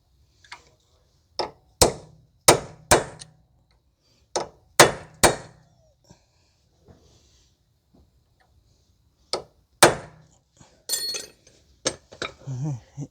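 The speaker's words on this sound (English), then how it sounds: "So once you're done, you can stake the axle nut." Sharp metallic hammer strikes staking the axle nut on a 2011 Kia Forte 5 SX 2.4 during lower control arm work, heard as close, loud clanging blows in two clusters with gaps between.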